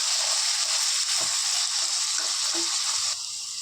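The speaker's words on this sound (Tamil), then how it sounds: "இப்போ இதில் சின்ன சின்னதாக கட் பண்ண பீன்ஸு கேரட் போட்டிருக்கேன். இது கொஞ்ச நேரம் வதக்கிக்கலாம்." Chopped beans and carrots sauté in a pan for veg fried rice, making a continuous bright sizzle with a few soft stirring knocks. The sizzle drops slightly toward the end, and no one speaks.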